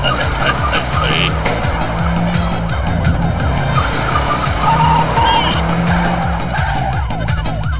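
A jeep speeds along with a steady engine roar and repeated tire skids and squeals, loud and close, during a car rally scene in a Hindi film, with no talking.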